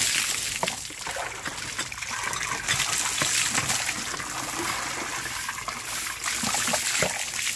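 Water being poured and splashing during washing, a continuous trickle and gush with scattered splatters, fairly faint and close, with no clear talk over it.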